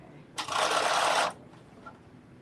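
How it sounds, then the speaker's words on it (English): A sewing machine stitching a fabric bucket hat, running in one steady burst of about a second before stopping, close and clear. "I sewed over the edge of my cap"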